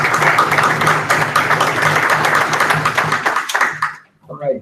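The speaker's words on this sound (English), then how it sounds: "Let's give a round of applause to Ron for his presentation." Clapping from an audience at a public briefing session, a dense, steady patter of many hands that fades out near the end, leaving a brief voice.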